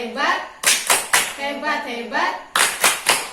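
A group at a community session on borrowing and saving claps in short, rhythmic bursts. Sharp patterned rounds of clapping alternate with chanted voices.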